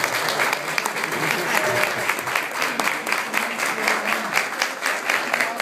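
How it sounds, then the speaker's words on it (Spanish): An audience at an anniversary event in Patzún, Guatemala applauds, a steady wash of crowd clapping lasting several seconds without a break. "Aplausos para ellos."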